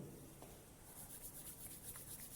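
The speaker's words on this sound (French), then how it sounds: "On frotte les paumes." Palms rubbing together with hand sanitizer during hand disinfection for home care: a soft, continuous close-up friction hiss lasting a couple of seconds, quiet and without speech.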